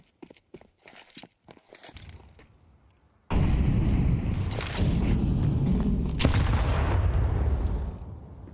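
In a Counter-Strike match, a flashbang grenade goes off with a sudden loud burst after several quiet footsteps and clicks, followed by a sustained roar of gunfire and in-game noise.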